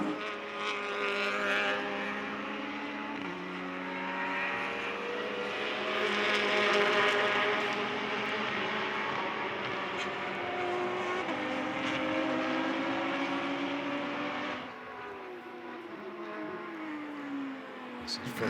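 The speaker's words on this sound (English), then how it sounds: "this big bunch of cars coming at you" SCCA race cars circle a big four-mile track with long straights and wide corners, a pack of engines droning and shifting pitch as they pass, steady and loud for the whole stretch, with commentary over the top.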